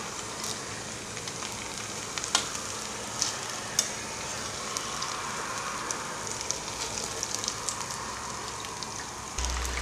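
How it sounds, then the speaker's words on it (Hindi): Ghewar frying in ghee, a dense steady sizzle with scattered crackles and pops running throughout, fairly close and with no voices over it. "जहाँ जहाँ पे पका नहीं है वहाँ वहाँ पे हम इसको डुबो डुबो के घी में पका लेंगे।"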